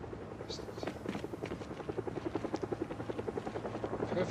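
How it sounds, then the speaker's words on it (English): A helicopter flying overhead in the Project Zomboid video game, a steady rhythmic rotor chop that grows a little louder and more pronounced throughout, with no voices. "And here is a chopper."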